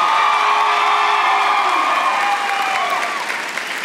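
A large crowd applauds and cheers at a College of Agriculture commencement ceremony, loud and sustained with whoops and shouts rising above the clapping, easing slightly toward the end.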